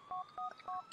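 Telephone number dialed in the GTA 4 video game, three quick two-tone keypad beeps in an even rhythm, clear and fairly quiet.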